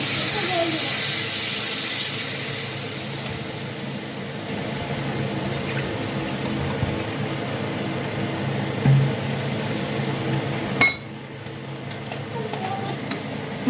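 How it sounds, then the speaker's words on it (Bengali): Water poured into a pot of Bengali soybean curry, a loud hissing gush at first settling into a softer steady bubbling sizzle, with a brief clunk near the end and quieter simmering after. "এবার আমি জল দিয়ে দেব।"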